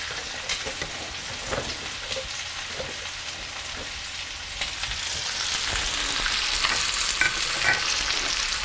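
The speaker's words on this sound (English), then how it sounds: "Now that lamb is cooking really nice." Lamb frying in a pan, a steady broadband sizzle with scattered crackles and pops that swells louder in the second half, no voices.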